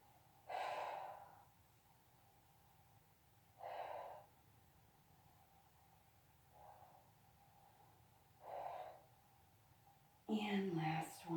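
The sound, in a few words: person breathing in and out during a towel workout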